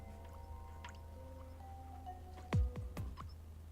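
Water droplets fall in the Ghost Trick video game, a few sharp dripping plinks in quick succession over soft game music.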